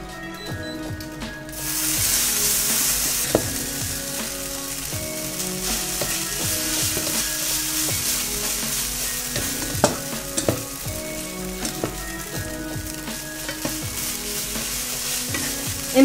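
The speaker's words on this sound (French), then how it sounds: "Un petit peu d'huile donc sur un côté de la plaque. On va prendre des pâtes et on va les mettre sur la plaque." Noodles fry in oil on a flat griddle plate for Hiroshima-style okonomiyaki, a loud steady sizzle swelling after a quiet start, broken by scrapes and sharp clacks of spatulas moving the noodles across the hot metal.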